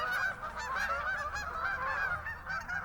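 A flock of geese honks continuously and fairly loudly outdoors, the calls overlapping in a steady chorus for the whole stretch with no talking.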